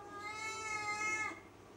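A house cat gives one long drawn-out meow at feeding time, close and clear for over a second before it fades, with no talk over it.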